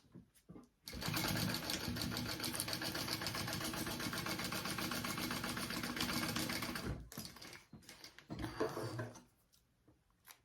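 A sewing machine bastes the sides of a crossbody bag shut in one sustained run of fast, even stitching, followed by short bursts and a few handling sounds.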